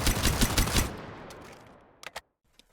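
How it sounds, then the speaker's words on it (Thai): A full-auto gun in the shooter game Strinova fires a rapid burst of close, loud shots for under a second, followed by a fading tail and a couple of short mechanical clicks. "Full Auto Mode ที่จะเปลี่ยนให้ปืนของเขากดค้างยิงรัวๆได้"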